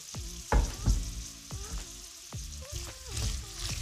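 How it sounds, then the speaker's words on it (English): Carrots drop into warm oil with a few loud, close splashy hits, then settle into a steady sizzle broken by soft stirring knocks, while a voice murmurs faintly underneath. "this oil is relatively warm now. We're just gonna add our carrots"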